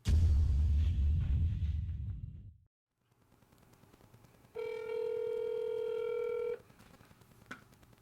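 A telephone call is dialed: a short burst of touch-tone key beeps, then a steady outgoing ring tone of about two seconds against faint background hiss. A loud low rumble precedes the dialing.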